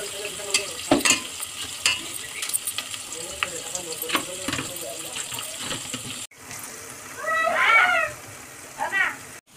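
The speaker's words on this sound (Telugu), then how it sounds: "ఇదైతే బ్రౌన్ కలర్ వచ్చేంత వరకు అయితే వేయించుకోవాలి." Something frying in oil until brown for chicken biryani makes a continuous crackling sizzle with stirring clatter, while a cat meows loudly a few times near the end and a voice is heard faintly.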